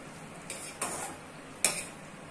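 Paneer cubes stirred into gravy in a pan, three distinct clinks and scrapes of a spoon against the metal over a faint background hiss, close and isolated.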